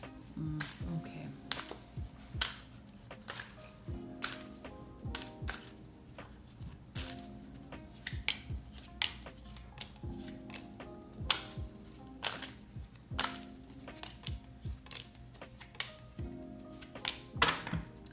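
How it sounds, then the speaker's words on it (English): A deck of playing cards is shuffled repeatedly: quick ruffling bursts and sharp card snaps in an irregular rhythm, close and fairly clear, over a faint music bed. "I shuffle these pretty well."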